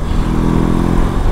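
A BMW R18 Bagger motorcycle's big boxer engine revs close by, a loud, throbbing low rumble with a lumpy pulsing beat across a brief burst of about a second and a half.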